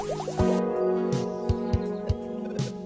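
A machine dispensing water in the video game Read Only Memories, heard as a few soft, evenly spaced drip-like plops over steady tonal background music.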